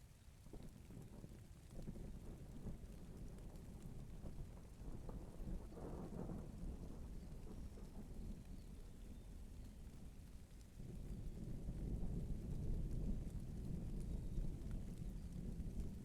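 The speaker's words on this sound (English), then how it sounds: "you'll hear obviously a little bit of the noise and then the thunder strike" Distant thunder rumbles low and steady beneath constant rain, swelling louder for the last few seconds.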